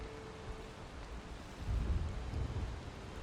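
Rain in the video game Valheim sounds as a broad, hissing wash, swelling midway into a deeper rumbling roll like distant thunder before easing slightly.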